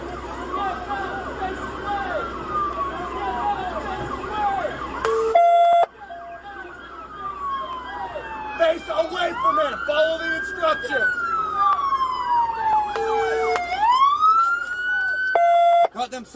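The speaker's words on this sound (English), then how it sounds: "Sirens." Several Marion County sheriff's police sirens wail and rise and fall in overlapping sweeps, loud and close, with brief electronic yelps and voices talking beneath them.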